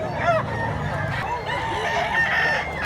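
A rooster crows at a gamecock market, a near, clear crow with clucking fowl around, over a busy low background.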